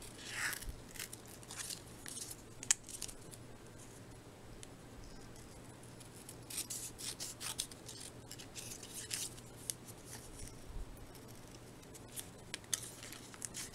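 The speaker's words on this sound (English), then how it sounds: "I think I might go ahead and like trim it, but trim it bigger" Scissors trimming scrapbook paper, faint close snips and light paper rustles scattered across a quiet room with a low steady hum beneath.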